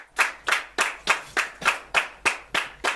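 A church congregation claps together in a steady rhythmic beat, about ten sharp, loud, evenly spaced claps, with no talking over them.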